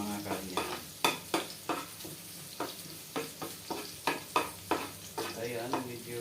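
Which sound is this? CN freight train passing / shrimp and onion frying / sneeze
shrimp and onion frying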